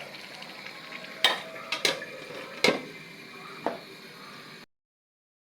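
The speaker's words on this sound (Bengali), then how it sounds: "ঢাকনা দিয়ে ঢেকে দেবো।" A metal lid goes onto a cooking pot of spinach, eggplant and pangas fish curry, giving a handful of sharp clanks and clinks spaced over a few seconds above a low sizzle, then silence.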